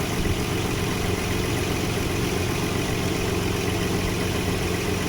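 Nissan VG30E V6 engine with a surging idle from a faulty AAC idle air control valve, in a 1987–97 Nissan D21 Hardbody, running at a steady close-up idle with a constant hum.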